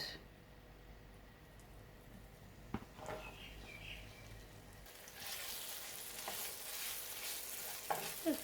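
Noodles and chunks of garlic frying in oil, a steady soft sizzle with occasional stirring knocks, the sizzle growing brighter and louder partway through, close by with no talking.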